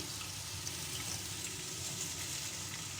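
A chopped medium onion hitting hot oil for a ridge gourd curry, frying with a steady, soft hiss that stays even from start to finish, with no voices.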